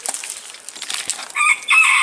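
A small young rooster crows in a short, strained burst near the end, preceded by faint scratchy rustling in a hen house, close by.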